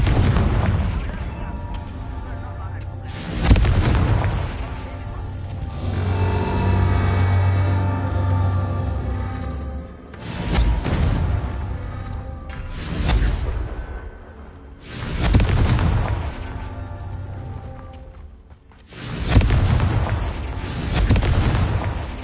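Blasting-spell explosions in a Harry Potter video game: several loud, deep booms with whooshing tails, spaced a few seconds apart and rumbling between blasts.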